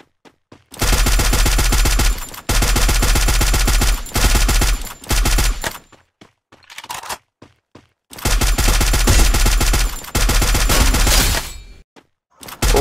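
Suppressed Scar rifle fire in the Free Fire battle royale game, long rapid automatic bursts separated by short pauses, loud and dense with no talk over it.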